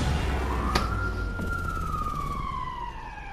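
An ambulance siren in the video game Watch Dogs 2 wails as one rising and slowly falling tone that fades away, with traffic rumble underneath and a short sharp click early on.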